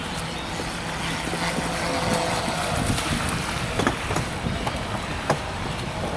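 A patrol boat moves across the pond in Victoria Park, giving a steady, moderately faint drone mixed with constant wind buffeting the microphone and no speech.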